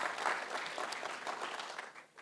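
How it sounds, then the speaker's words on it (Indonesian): A church congregation claps together, a dense burst of applause that stays steady and then tapers off near the end. "Kita kasih tepuk tangan buat Tuhan Yesus yang baik."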